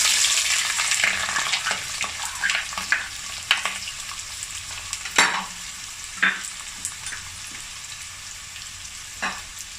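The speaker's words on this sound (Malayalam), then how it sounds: "നമ്മുടെ ഓയിൽ നന്നായിട്ട് ചൂടായിട്ട് നമുക്കതിലേക്ക് സവാള ചേർത്ത് കൊടുക്കാം." Onions frying in hot olive oil for chicken pasta, a bright crackling sizzle that gradually settles, punctuated by several sharp spatula scrapes and taps against the pan, no voices.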